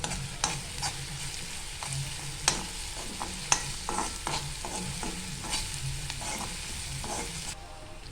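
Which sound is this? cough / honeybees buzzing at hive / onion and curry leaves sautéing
onion and curry leaves sautéing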